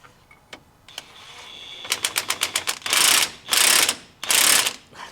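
Ratchet socket wrench cranking a rusty washer and bolt on a Jeep build: a series of sharp rapid ratchet clicks, then three long loud grinding bursts, close and with no talk.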